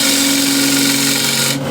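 A woodturning gouge cuts into spinning wood on a lathe for a hexagon plate, a loud continuous rasping, scraping drone with a steady hum that cuts off abruptly near the end.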